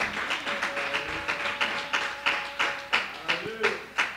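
A congregation at a healing service claps in a steady rhythmic beat, about two claps per second, moderately loud, with a sustained tone and brief voices underneath.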